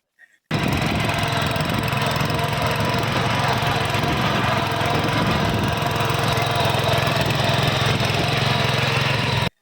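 A Honda 7 HP petrol power weeder engine starts up and runs loud and close, a steady rapid chugging drone that continues without a break until the end.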